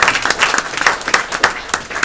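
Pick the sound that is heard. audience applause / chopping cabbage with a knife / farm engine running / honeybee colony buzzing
audience applause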